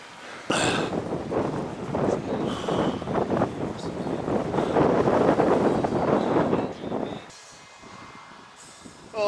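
Strong wind buffets the microphone while cycling on an open road, a loud, sustained roar that swells and gusts for several seconds, then drops to a quieter rush before rising again.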